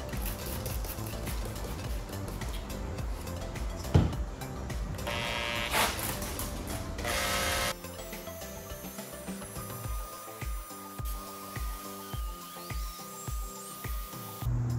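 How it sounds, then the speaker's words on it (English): A power drill fitted with a scouring pad wet-sands a car headlight, giving a close, steady whirring grind with a louder stretch partway through. Rhythmic pulsing sounds take over afterward, and no one speaks. "So I'm getting the drill ready now."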